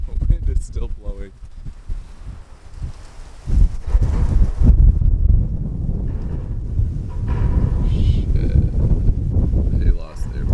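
Hurricane winds from Ian in southwest Florida buffet the microphone in heavy low rumbling gusts, with a person speaking over the roar at times.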